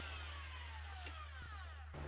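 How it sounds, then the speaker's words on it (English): A rotary hammer drill with a coring bit bores into a stucco exterior wall, giving a continuous loud grinding whine with a falling pitch and a steady low hum underneath, with no voices. "we're going to take this around and drill from the outside back in"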